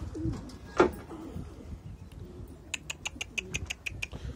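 Pigeons, including young ones, coo softly nearby, followed by a rapid series of sharp clicking pecks or wing taps, with quiet rustling in between.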